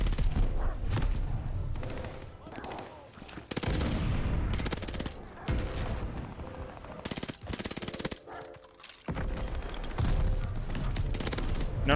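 Heavy automatic gunfire from a PPSh submachine gun in Call of Duty: Vanguard, loud and close, coming in sustained bursts broken by short lulls.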